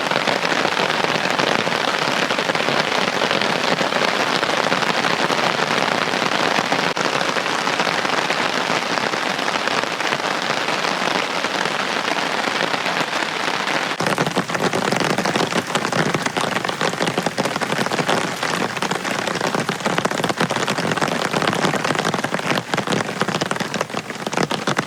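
Heavy thunderstorm rain pours steadily and loudly onto a solo fishing campsite, a dense, unbroken wash of drops with crackly spatters and no voices.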